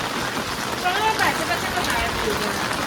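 Steady rain falls on a road dug up for laying drinking-water pipes, a continuous close hiss of drops with faint voices in the background.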